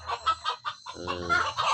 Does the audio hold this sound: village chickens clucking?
yes